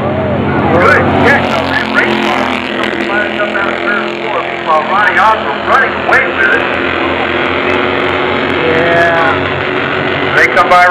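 Bandolero race cars scream past on an oval raceway, with rising and falling engine whines that overlap as several cars pass close by under loud race commentary.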